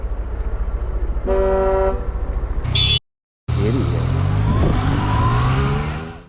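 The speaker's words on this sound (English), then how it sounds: "He even had the audacity to honk back at the biker" A car horn toots a few short blasts amid road traffic and engine noise, followed by a brief gap and a revving vehicle.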